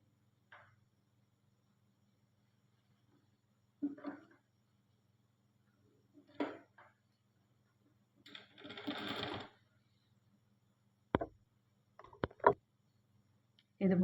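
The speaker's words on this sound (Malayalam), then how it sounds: "ഇതുപോലെ സൈഡിലേക്ക് ഫുള്ളായിട്ടൊന്ന് സ്റ്റിച്ച് ചെയ്ത് കൊടുക്കണം നെക്കിൻ്റെ" Short bursts of a sewing machine stitching along the neck seam of a white garment piece in a cutting and stitching class, quick mechanical runs separated by pauses and a few sharp clicks, with someone speaking between them.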